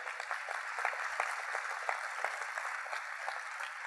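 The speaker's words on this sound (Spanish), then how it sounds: "Nuevamente les pido un fuerte aplauso para Grupo Catán." A crowd at a corporate social responsibility award ceremony in Honduras claps steadily for an honored company, a faint, even wash of applause heard from some distance.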